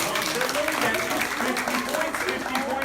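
A crowd claps at an American Revolution walk-through event, with steady applause running under loud voices and shouting throughout.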